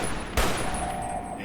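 A gun fires in a video game battle against a machine with missile silos, one sharp loud blast bursting out midway and ringing briefly into a steady rumbling background.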